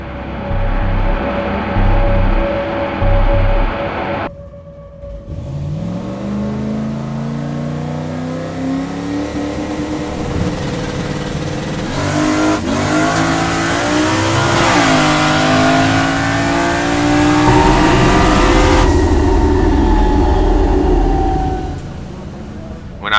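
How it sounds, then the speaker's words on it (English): A loud engine roars off the line and climbs steadily in pitch through several gear shifts, a drag car launching and accelerating hard for a long run. "it's up to Joey to make sure the car makes it down A to B"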